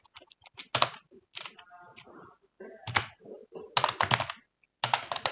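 Command typed on a computer keyboard, bursts of quick close key clicks in uneven clusters with short pauses between them.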